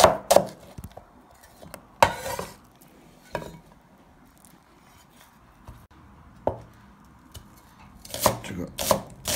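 A knife slices vegetables on a cutting board in bursts of sharp, close chopping knocks separated by quiet pauses, with a quick flurry near the end and no voices.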